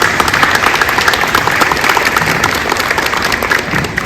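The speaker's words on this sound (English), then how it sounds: "Let's give them a round of applause." A round of applause for a city Department of Housing crew at an affordable housing project event, steady dense clapping from a crowd lasting the whole stretch with no talk over it.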